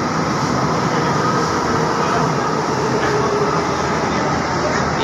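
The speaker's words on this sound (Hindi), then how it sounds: "ये आ गई हमारी मेट्रो" A Delhi Metro train arrives at Rajiv Chowk station with a continuous, loud mechanical rumble and rail noise that fills the platform evenly from start to finish.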